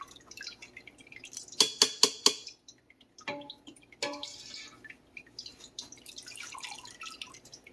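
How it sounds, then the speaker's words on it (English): Whey drips and spatters from goat milk curds being squeezed in a colander, with a quick burst of sharp drips, a pause, then scattered splashes and soft clinks close by. "You see all that whey come out as we're squeezing it?"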